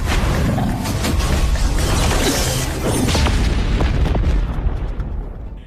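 A loud, rumbling explosion with a dense, crackling roar that sustains for several seconds before tapering off slightly at the end.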